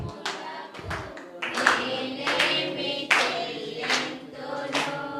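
A church congregation at a Telugu Christian New Year service claps together in several rhythmic bursts of loud, sharp hand claps. A voice speaks between the claps.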